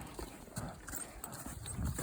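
The hooves of a young colt named Hank clip-clop as he is ridden during early training rides. The steps are soft and fairly distant, set against steady outdoor background noise.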